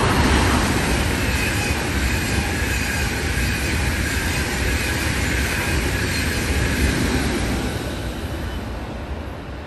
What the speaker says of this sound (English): You got a German high-speed train,